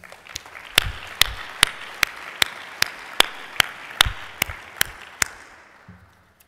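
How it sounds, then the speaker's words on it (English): At a music conference general session, sharp, loud claps strike in a steady, evenly spaced rhythm close by, over faint scattered applause from the audience. "Let's give them a big round of applause."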